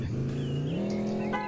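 A Vespa motor scooter engine in a video game revs up steadily, its buzzing tone climbing in pitch, close and continuous with no voices.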